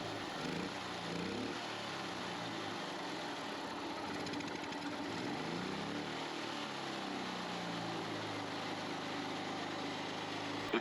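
A generator engine that had seized runs roughly while its throttle is worked, a continuous loud mechanical drone with surging pitch swells and knocking, close by and without speech.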